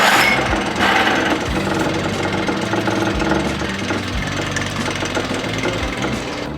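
A Yamaha 9.9 outboard motor with an automatic choke runs steadily after repairs for hard starting and cutting out, a loud close-up mechanical clatter with a regular rapid knocking beat, no voices.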